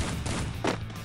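Gunfire in the mobile battle-royale game Free Fire, a dense burst of loud shots with a sharper blast near the end, packed into about a second.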